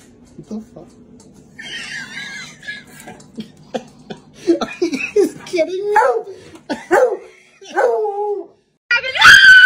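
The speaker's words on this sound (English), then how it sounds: "Bark at your dog. Woof!" A dog barks and yips in short, uneven bursts at close range, mixed with whimpering and howl-like calls, while a person talks over it.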